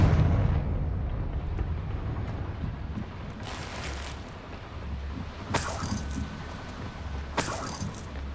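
Confringo fire-spell blasts from the game Hogwarts Legacy burst out over a low rumbling game backdrop, with three sharp bright explosive hits spaced a couple of seconds apart.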